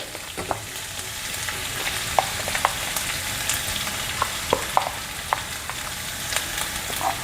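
A vegetable bhaji with freshly grated coconut being stirred in a pan, a steady close sizzle and frying hiss broken by scattered light scrapes of the spoon against the pan.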